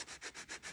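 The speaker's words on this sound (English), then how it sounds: "So we're just gently sanding those off." Quick, gentle back-and-forth sanding strokes on small lightning bolt paddle charms with a nail file or fine-grit sandpaper, five brisk, even rubbing passes, close and faint.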